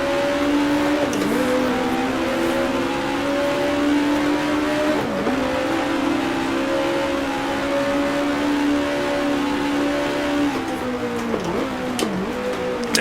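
A 1966 Grand Prix racing car in the Grand Prix Legends sim, its engine droning loud and steady with several sharp pitch dips as gears change down, close and continuous with no talking.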